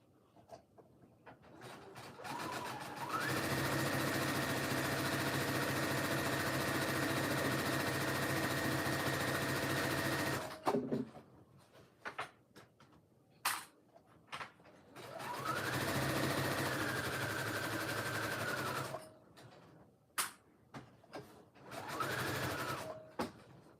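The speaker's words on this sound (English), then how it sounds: "And then I'm gonna sew probably like 1/4 of an inch away." A sewing machine stitching stretch leopard-print leggings fabric runs in two long steady bursts of rapid mechanical whirring, with short pauses and a brief final run between them, close and alone.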